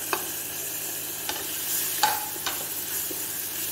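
Spices with tomato, red chilli and coriander powder frying in a pan, a steady sizzle with a few sharp scrapes of a spoon stirring at irregular intervals.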